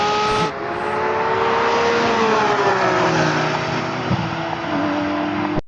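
Porsche GT3 RS cars of several generations drag racing, a loud, sustained engine roar holding steady with rising and falling pitch as the cars accelerate hard, with no talk.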